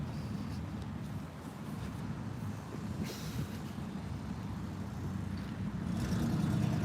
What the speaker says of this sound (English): It's the engine sound right now. It's a loud truck right now